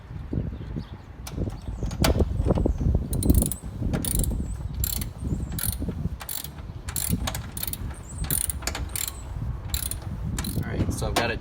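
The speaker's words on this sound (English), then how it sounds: "this large washer and the nut here. I just need to tighten it down" A wrench tightens a large nut and washer on the firewall of an NA Mazda Miata during a gas strut hood lift install, giving repeated close ratcheting clicks and metallic taps in short bursts.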